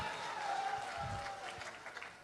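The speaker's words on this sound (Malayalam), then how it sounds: "നിങ്ങളുടെ എല്ലാവിധ പ്രോത്സാഹനങ്ങളും പ്രതീക്ഷിച്ചുകൊണ്ട് എല്ലാവരും ആത്മാർത്ഥമായിട്ടൊന്ന് കൈയടിച്ചേ" Audience applause at a live Malayalam comedy stage show, a brief moderate burst of clapping from the crowd alongside a speaker's voice.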